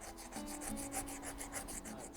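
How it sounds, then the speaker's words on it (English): A steady, even rubbing scrape of sandstone sanding against a hard surface, continuous and close with a faint tonal hum underneath. "I have sandstone for the rough sanding, and then I use like screen or sandpaper for the fine sanding."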